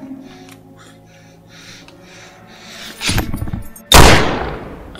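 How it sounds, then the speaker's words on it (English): A gunshot in a comedy sketch, a loud sharp crack after a quieter stretch of faint clicks and rustling, followed by a second, louder blast that decays over about a second. "Why did you just shoot me?"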